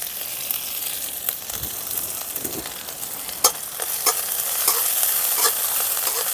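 Cumin seeds, chopped green chili and ginger fry in a pan with a steady, close sizzle. Scraping stir strokes and sharp crackles recur throughout, with no talk.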